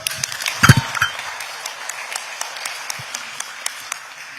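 An audience at a memorial luncheon for victims of state violence applauds to welcome a president, a burst of clapping early on that thins to scattered claps and stays at moderate loudness.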